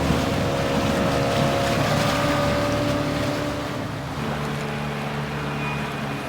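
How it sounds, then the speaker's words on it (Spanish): A motorboat in the Modern Warfare II campaign roars steadily along with heavy wind rush, the engine drone loud and continuous, easing slightly partway through. "Esa es su lancha."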